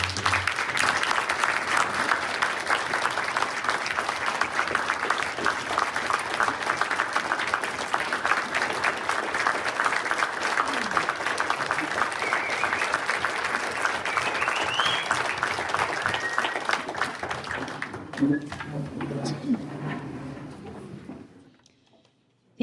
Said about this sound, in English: I think we should give them a really big round of applause.